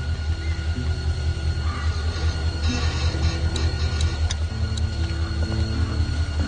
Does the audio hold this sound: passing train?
yes